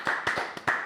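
Four sharp handclaps in a studio come in quick, slightly uneven succession, close and fairly loud.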